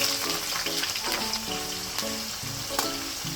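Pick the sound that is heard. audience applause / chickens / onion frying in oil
onion frying in oil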